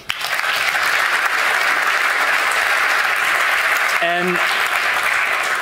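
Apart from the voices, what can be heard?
audience applause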